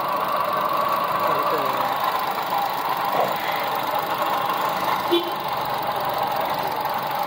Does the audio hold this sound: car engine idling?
yes